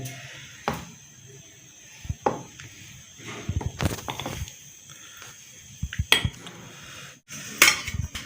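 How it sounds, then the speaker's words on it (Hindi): Boiled rice for rice and potato kababs is mashed in a metal pot, giving irregular clanks and scraping knocks of the utensil against the pot. The sharp hits come scattered over fairly quiet gaps. "पहले चावलों को अच्छी तरह मैश कर लेंगे"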